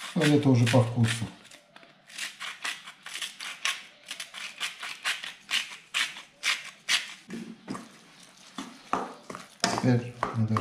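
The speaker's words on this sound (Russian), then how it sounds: "Теперь мы должны хорошенько размешать." A spoon stirs a red lentil falafel mixture with ground cumin, olive oil and salt in a bowl, giving repeated quick scraping strokes in an even rhythm that carry on for several seconds after a brief burst of talk.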